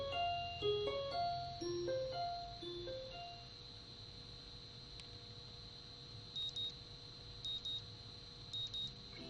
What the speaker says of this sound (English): The sound of an alarm pulls me out of the fitful slumber and into the unpleasant state of wakefulness.